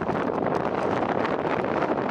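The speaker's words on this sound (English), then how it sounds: "I hope you hear me because the wind is quite fierce" Fierce wind on an open mountainside in the Brecon Beacons, buffeting the microphone in a steady, loud, broadband roar that never lets up, with no voices heard.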